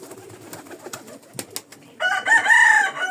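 Pigeons in a loft, with soft shuffling and light taps, then a close, loud bird call with a rolling cooing quality near the end.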